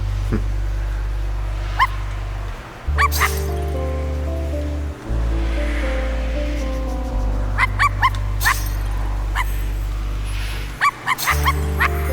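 A dog in the video game I Am Dead barks in short, sharp bursts over a low, droning game soundtrack, with clinking and gaps between the yaps.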